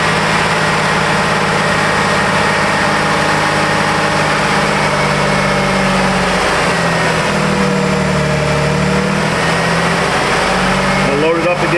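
A 2007 Jeep Grand Cherokee engine holds a steady 2,000 RPM, a loud, even drone with a constant low hum that carries on without a break throughout.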